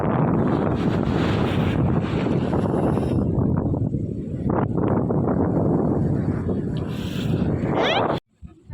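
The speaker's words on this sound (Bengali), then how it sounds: "ভরা পূর্ণিমায় এমন সমুদ্রের সামনে সমুদ্রের শব্দটা দেখেন" Sea surf rolling onto a beach on a full-moon night, a continuous loud wash of breaking waves heavily buffeted by wind noise on the microphone, cutting off abruptly near the end.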